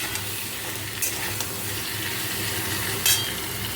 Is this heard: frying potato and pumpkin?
yes